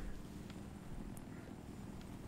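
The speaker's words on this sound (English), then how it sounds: "Nick, you're in a helicopter." A Little Bird helicopter in the Battlefield 3 video game on the Damavand Peak map gives a faint, steady rotor and engine hum, low and continuous, with brief faint clicks.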